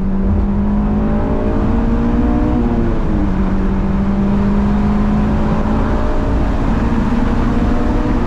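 Honda S2000 engine heard from inside on a California highway, a continuous loud drone with the pitch rising and shifting as gears drop and revs climb into VTEC.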